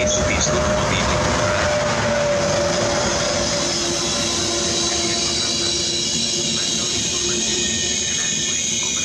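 A train at Conegliano station on a rainy morning rumbles and hums steadily with faint clatter, fairly close and continuous, and a voice speaks over it.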